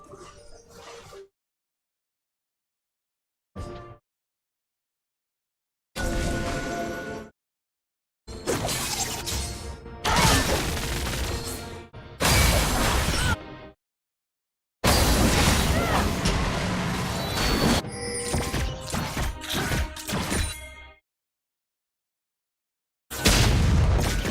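A League of Legends inhibitor tower and inhibitor destroyed during a college esports match, heard as loud crashing, shattering bursts in several separated clusters with silent gaps between them.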